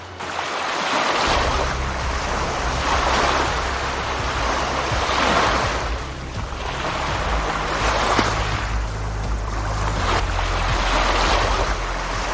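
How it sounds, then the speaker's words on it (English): A massive tidal bore surges toward the shore in a continuous, roaring wash of water that swells and eases in long waves, with steady low rumble and no voices. "This phenomenon is considered one of the largest tidal bores in the world"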